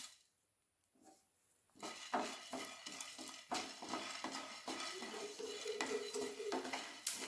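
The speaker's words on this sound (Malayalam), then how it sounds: "ഇനി കുരുമുളക് ഉലുവേന് വറുത്തെടുക്കണം കുരുമുളകെല്ലാം പൊട്ടിട്ട് വരുന്നുണ്ട്" Black pepper and fenugreek roasting in a pan, with a spoon scraping and clattering against metal in an irregular rhythm and light crackle beneath, close and fairly loud after a quiet start.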